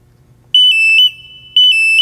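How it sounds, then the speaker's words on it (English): Fault alarm on a Genie lift's ALC 500 control system, triggered by disconnecting the extend-retract controller: two loud, steady high-pitched electronic beeps, the first about half a second long and the second starting a second later, over a faint background hum. "We'll get an audible alarm"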